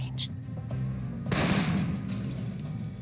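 Rifle fire in the video game Alpha Protocol, one sharp broadband crack followed by a sustained burst of shots and rumble over a game background, with a voice speaking beforehand.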